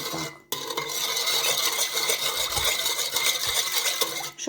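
A spoon scrapes and swirls steadily around a bowl, stirring sugar into the liquid for yeast pancake batter, a continuous close rasping stir with no talking.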